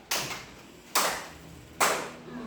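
Three sharp hand claps, evenly spaced about a second apart, close and clear against a quiet background.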